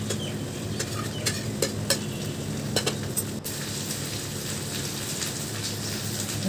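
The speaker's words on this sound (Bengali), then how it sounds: "এর মধ্যেই আমি কিন্তু ভিন্ডিগুলো দিয়ে ভালো করে নাড়াচাড়া করে ভেজে নেব।" Okra frying with onions in a pan gives off a dense, even hiss like steady rain, with a few sharp clicks of stirring early on, close and unbroken, no talking.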